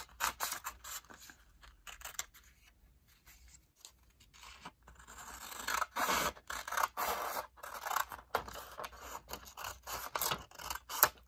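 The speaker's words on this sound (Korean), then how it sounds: "세 장을 다 접었으면 가위로 잘라볼게요." Scissors snip through folded colored paper during an origami craft, a series of close, crisp cuts and rustles in irregular bursts, with quieter pauses early on.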